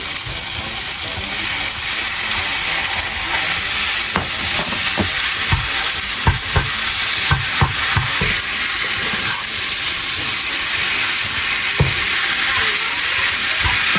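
Minced beef with garlic and black pepper fries in a pan, making a loud, steady sizzle. Scattered clicks and scrapes of a utensil stir through the mixture.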